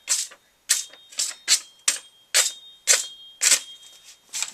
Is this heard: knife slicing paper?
yes